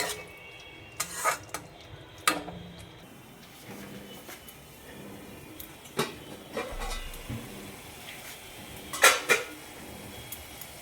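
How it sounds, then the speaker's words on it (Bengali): Bengali katla fish curry masala being stirred and sautéed over a low flame, soft scattered scrapes and clinks of a spoon against the pan over a faint low sizzle. "সুন্দর করে লো ফ্লেমে এটা কষাতে হবে, যতক্ষণ না এর থেকে তেল বেরোচ্ছে।"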